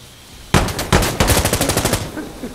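Minigun fire in the video game Insurgency Sandstorm during hardcore combat, a loud, close burst of rapid automatic shots that starts suddenly, rattles for about a second and a half, then drops away into echo.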